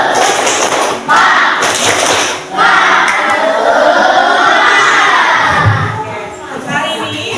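A class of students shouting an energetic cheer in unison, with loud crowd-like voices and a few sharp claps and thumps near the start, sustained and close throughout.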